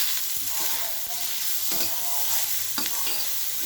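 Pointed gourd peels and peanuts frying in a pan, a continuous close sizzle with periodic scraping strokes of a spatula stirring them; no voices.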